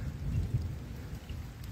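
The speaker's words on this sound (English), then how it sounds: "the rain's starting to come down nicely here" Rain coming down outdoors at a martial arts dojo, a steady soft hiss of falling drops with low rumbling underneath, continuous and fairly near with no talking.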